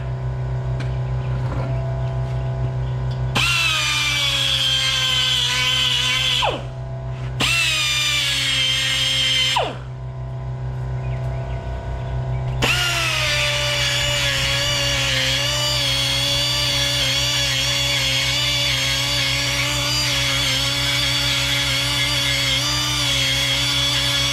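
Power tool grinding and cleaning up the lifter valley of a big block engine, a loud whining tool that runs in bursts, stops briefly twice, then runs steadily for the remaining stretch.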